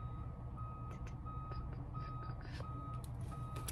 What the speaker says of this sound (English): I'm so sorry for that beeping in the background.